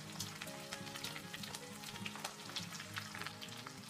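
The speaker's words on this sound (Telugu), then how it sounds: "వీటిని మనం కాసేపు వేయించుకోవాలండి." Onions, green chillies, curry leaves, carrot and ginger pieces fry in a pan for tomato bath, giving a steady close sizzle with small crackles and spoon stirring throughout, no voices.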